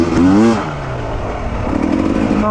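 A KTM TPI two-stroke motorcycle shifts up into third without the clutch, its engine note dropping and steadying after a brief rev, loud and close with no talk.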